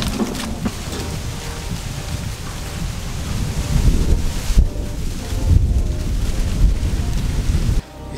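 Strong, cold wind roars and buffets the microphone in gusts outdoors, a loud broadband rush that swells midway and stays constant with no talking.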